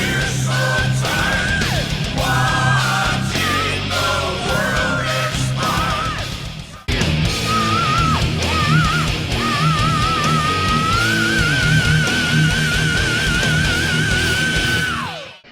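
Piercing, full-chested banshee shrieks from a Judas Priest metal record, sustained high vocal wails held over loud, dense guitars and drums, with a brief break midway before the screaming resumes.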